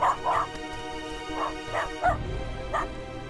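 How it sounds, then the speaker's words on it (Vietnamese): A dog barks several times in short, sharp bursts with a whimpering yip mixed in, fairly close, within a drama scene's room tone. "chó sủa có vài tiếng"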